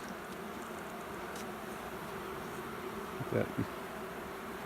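Honey bees buzz steadily around an open hive during feeding, a continuous low drone near the listener, with a couple of brief louder bumps and thuds toward the end.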